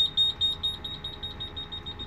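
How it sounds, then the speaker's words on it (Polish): Rapid, steady high-pitched electronic beeping of the request-stop chime inside an Iveco Urby city bus, repeating evenly over a low cabin rumble, with no talking. "Jak mamy przystanek na żądanie, to wtedy mamy sygnał dźwiękowy"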